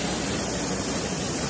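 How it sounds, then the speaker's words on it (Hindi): Jet engine of an airplane on a flight from Bombay to Gorakhpur, a loud, steady broadband roar with a constant high whine, heard close and alone. "ये रहा हमारा हवाई जहाज और हम जा रहे हैं गोरखपुर फ्लाइट से"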